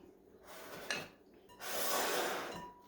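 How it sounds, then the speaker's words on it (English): Coleslaw with thick-cut carrots being mixed in a bowl: soft scraping and rubbing bursts, including a longer sustained stir, close and fairly quiet with no talking. "Mix that really well."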